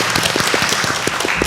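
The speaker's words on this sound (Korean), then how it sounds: "박수가 절로 나오네." An audience claps at a talk event with a city mayor, a short, dense burst of applause at moderate loudness with individual claps standing out, heard alone.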